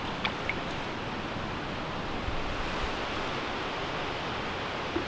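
Clear, cold water on the River Wye rushes and washes steadily as a dense, even broadband noise, close by and without a break, with no voices present.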